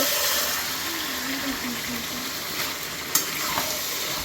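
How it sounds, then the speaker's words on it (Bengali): Mutton curry being stirred in a pan makes a steady sizzle and frying hiss, with faint scraping and a sharp clink partway through, no voices. "এবার নেড়ে চেড়ে ঢাকাঢাকি করে দেবো।"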